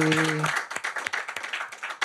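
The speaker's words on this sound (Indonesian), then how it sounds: "Yuk kita tepuk tangan buat Debbie, Vicky," Applause for family members joining an Indonesian talk show host, a short burst of scattered hand clapping after a brief tone, fairly close and moderately loud.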